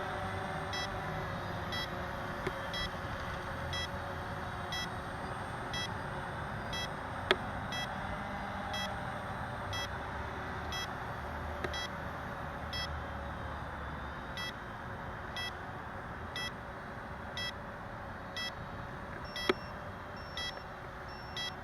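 Faint, regular beeping from a CX20 drone warning of a low battery, a steady train of short high tones over a quiet constant hum, with no talk.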